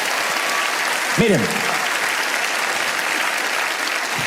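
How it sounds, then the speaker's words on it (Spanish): A church congregation applauds during a sermon, a dense steady clapping that fills the whole stretch, with a voice briefly speaking over it. "Alguien tiene que aplaudir más que eso si lo crees de verdad"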